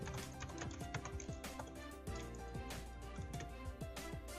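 Quick, light clicks of keys tapped on a computer keyboard during data entry, a steady run of soft keystrokes with brief pauses.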